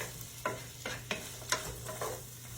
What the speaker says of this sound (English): So I'm just sauteing up those sausages and those onions together.